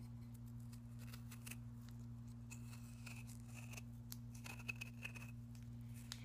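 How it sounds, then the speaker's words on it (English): Quiet, soft scraping and slicing of a knife peeling persimmon skin, in short irregular strokes over a steady low electrical hum. "It's just like peeling an apple."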